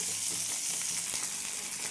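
Pearl spot fish frying in hot oil in a pan, giving a dense, steady sizzle that stays close and even throughout, with no voices.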